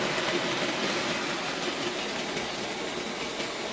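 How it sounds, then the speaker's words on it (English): A Hornby Dublo three-rail N2 model tank locomotive runs on its track with a steady, even mechanical whirr and rail rumble, close and continuous with no voices. "the tank loco runs very nicely"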